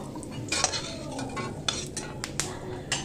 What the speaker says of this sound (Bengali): কড়াইয়ে তেল দিয়ে কয়েকটা কাজু বাদাম ভেজে তুলে রাখবো